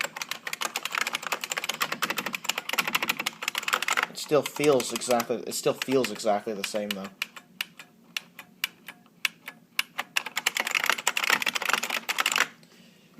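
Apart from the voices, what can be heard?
typing on Unicomp Classic 104 Model M keyboard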